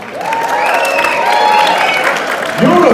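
Stand-up comedy audience in a hall bursts into applause and cheering, loud and close, while a voice talks and calls out over the clapping.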